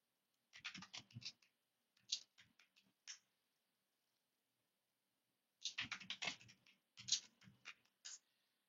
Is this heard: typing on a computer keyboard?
yes